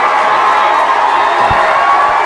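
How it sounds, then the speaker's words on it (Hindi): An audience at a poetry gathering, the Jashn-e-Saba Balrampuri event, breaks into loud, continuous applause and cheering to welcome a poet onto the stage, a dense crowd roar with no single voice standing out. "एक बार जोरदार तालियों से इस्तकबाल कीजिए।"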